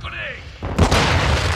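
A flash grenade goes off in Modern Warfare II Domination multiplayer, a sudden loud burst that cuts in after a brief shouted callout and rings out into a sustained noisy wash.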